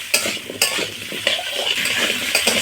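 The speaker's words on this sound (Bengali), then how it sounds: "পটল আলুগুলো ভেজে নিয়েছি" Pointed gourd and potato pieces fry loudly in a pan as a utensil stirs them, with scraping strokes every half second or so over a constant close sizzle, no speech.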